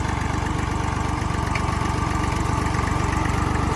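A Ford Super Dexta tractor's diesel engine idles steadily after a jump-start, with an even, rapid low chugging throb that runs unbroken and fairly loud, with no voices over it.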